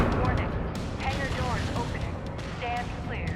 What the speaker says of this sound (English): I can hear gunfire outside.